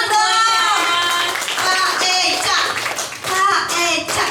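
Hands clap in a hotel event audience in Banjarbaru, bursts of clapping mixed under loud voices and music-like tones, rising and falling over several seconds.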